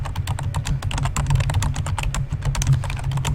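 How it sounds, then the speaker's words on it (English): Rapid, continuous typing on a computer keyboard during a livestream giveaway, the dense clatter of keystrokes running steadily close to the mic over a low hum, with no one talking. "Typing."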